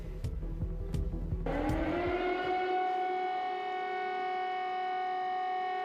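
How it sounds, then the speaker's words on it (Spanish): Civil defense air raid sirens wail across Kyiv, Ukraine, a steady rising tone that swells up out of background noise and then holds loud and sustained. "Sirenas que desde el jueves comenzaron a sonar en Kiev y otras ciudades de Ucrania"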